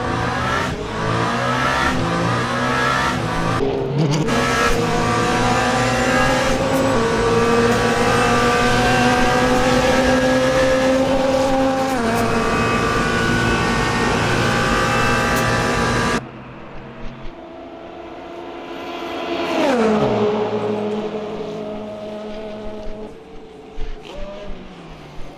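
Race cars lapping Le Mans through the first chicane on the Mulsanne Straight in the Le Mans Ultimate video game, with loud engines rising and falling as they shift and brake, and a fainter car sweeping past near the end.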